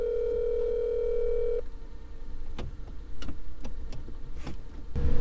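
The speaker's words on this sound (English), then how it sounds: "I'm gonna call Carmen." A phone ringback tone hums steadily for about a second and a half while calling someone from inside a moving kei truck, then cuts off, leaving engine rumble and scattered clicks and knocks.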